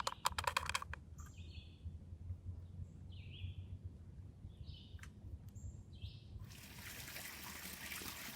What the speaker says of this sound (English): it's called an artesian well, which means the water's coming up out of the ground without having to be pumped